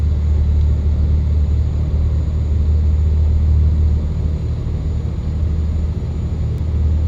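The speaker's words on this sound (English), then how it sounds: "I activated the retarder." A heavy cargo truck runs with its engine retarder braking, giving a loud, steady, low rumbling drone from inside the cab for several seconds without a break. There is no talking.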